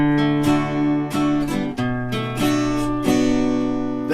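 Acoustic guitar strummed in steady time, several ringing chord strokes spaced evenly over a few seconds, played alone and close with clear sustain between strums.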